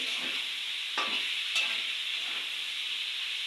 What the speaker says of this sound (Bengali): ভাজাভুজি পর্ব চলছে এখনো, আরও কিছুটা সময় লাগবে।